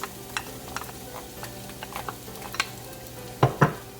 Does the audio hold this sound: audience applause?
no